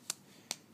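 A baby girl claps her hands twice, two sharp, quiet smacks about half a second apart over a faint room hush, with nobody speaking.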